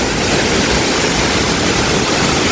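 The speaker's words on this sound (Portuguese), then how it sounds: "A água vem lá de cima com uma força" Water rushes down a waterfall with great force, a loud, dense, unbroken roar filling the scene from close range.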